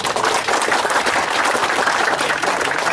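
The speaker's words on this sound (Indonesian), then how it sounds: "Ya, tepuk tangan semuanya." Sustained, dense applause from the audience at a 2015 Ministry of Social Affairs aid handover ceremony, steady and loud throughout with no break.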